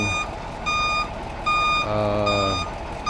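A boom truck backs up near an excavator during a backhoe recovery, its reversing alarm sounding repeated loud, evenly spaced beeps over a low engine rumble.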